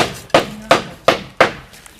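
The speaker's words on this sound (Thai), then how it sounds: "ตะปูมาตอกก็ได้เนาะ" Four firm hammer strikes driving a nail, evenly spaced about a third of a second apart, close and loud with short decays and no talking.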